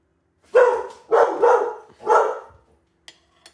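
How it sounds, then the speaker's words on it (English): A dog barks close by in three loud bursts, the middle one doubled, followed by a couple of faint clicks; no one speaks. "that's enough barking"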